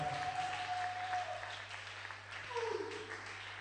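A worship seminar audience applauds in acclamation, a soft, distant patter of clapping under a tonal hum and a few sustained singing or whistling tones.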